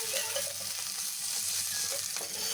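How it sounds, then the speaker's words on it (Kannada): Ladies finger (okra) frying in a spoonful of oil over a low flame, a steady close sizzle with soft scraping stirs and a few light spatters throughout. "1 ಸ್ಪೂನು ಎಣ್ಣೆ ಅಷ್ಟು ಹಾಕ್ಕೊಂಡು ಹಿಂಗೆ ಅದನ್ನು ಫ್ರೈ ಮಾಡ್ಕೊಂಡ್ಬರೋಣ."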